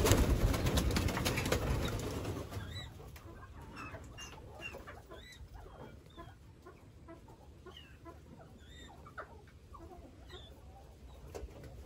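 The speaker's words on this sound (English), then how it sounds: "All right, here we have a rooster." Pheasant calls in an outdoor pen by a pallet swing roost, with several short, sharp bird calls scattered through the clip after a louder opening burst of noise.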